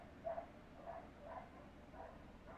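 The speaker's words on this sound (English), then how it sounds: "not sure if you can hear the dogs barking." Dogs barking in the distance, faint rhythmic woofs repeating about every half second under a low background hum.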